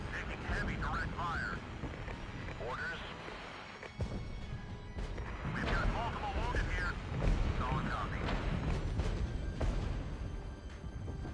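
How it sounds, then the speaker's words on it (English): Artillery fire in the Regiments video game, with irregular booms and impacts under a man's speech and game sound effects. "here's the artillery again"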